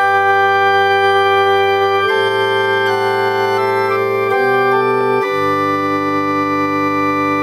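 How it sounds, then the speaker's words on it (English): A pipe organ voice on a Roland LX-5 upright digital piano plays sustained chords that change every second or so. The held tones are loud, rich and full of harmonics, with no talk. "You can have a pipe organ."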